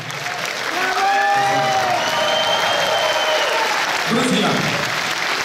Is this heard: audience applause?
yes